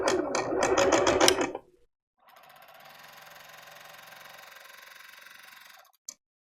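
A sewing machine stitches the side of a U-shaped trouser pocket, a steady close mechanical whir lasting about four seconds after a short stretch of speech, ending with a brief click.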